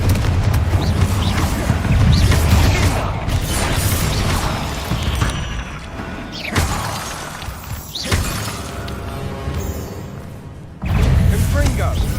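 A Confringo fire spell explodes during a spider fight in the Hogwarts Legacy video game, with booming blasts and shattering crashes over dense, loud game sound, and voices heard in the mix.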